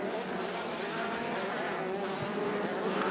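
Race cars on a dirt track at Elk River, Minnesota, engines roaring steadily at a distance with a constant drone and faint tire noise.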